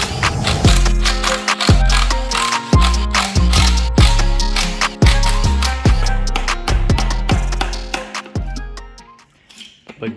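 Metallic ratcheting and clanking as the sump is worked off an abandoned EVO engine, with rapid repeated clicks from a hand tool and rattling parts, close and loud throughout.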